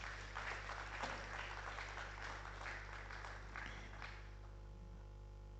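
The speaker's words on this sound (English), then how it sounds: "Let's give them a round of applause." An audience at a formal evening forum on Ghana and Africa claps in a round of applause, a dense, steady patter of hands that fades out near the end over a low room hum.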